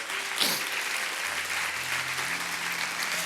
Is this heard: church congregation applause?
yes